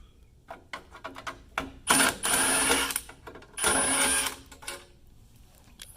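Two top screws being unscrewed to remove a car headlight, heard as a few quiet clicks followed by two bursts of harsh scraping, each about a second long.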